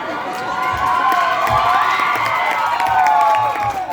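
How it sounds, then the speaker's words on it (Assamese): A stage-show audience at a Bhogali Bihu comedy program cheers and whoops loudly, with crowd shouting sustained throughout and scattered clapping mixed into the dense roar. "এটা দীঘল উৰুলি নহয় হাত চাপৰি"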